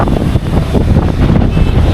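Strong, gusting sandstorm wind roars across the microphone in a dense, steady low rumble with no voices, buffeting continuously throughout.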